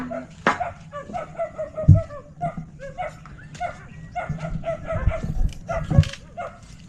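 A dog barks and yips repeatedly near a hut in a rural setting, irregular sharp barks mixed with whimpers, fairly close, with a few people's voices now and then.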